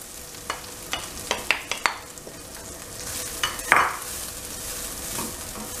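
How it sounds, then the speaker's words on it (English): Freshly grated coconut stirred into roasted nuts in a pan for modak filling, a scraping spoon clatter with a few sharp knocks and a soft sizzle underneath, close and fairly quiet, no talking. "Now we are going to add this 2 cups of freshly grated coconut."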